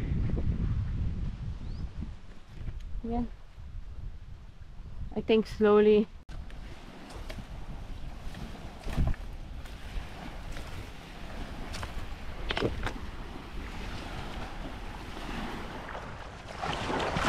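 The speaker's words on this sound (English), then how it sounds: "Just cocoa trees and the sound of sea." Steady wash of sea waves with wind noise across the whole stretch on the Balabac Islands in the Philippines, someone speaking briefly over it near the start.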